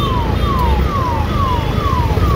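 An ambulance siren wails on a road, repeating a falling sweep about every half second, loud and close over steady traffic noise, with no talking.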